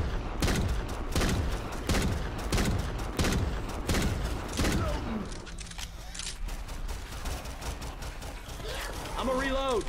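Gunfire in the Left 4 Dead 2 shooter with an ultra realistic mod: a rapid, loud string of sharp shots in steady rhythm for about five seconds, then a quieter stretch with mechanical clicks and a brief voice.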